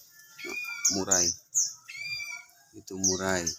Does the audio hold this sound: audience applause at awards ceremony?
no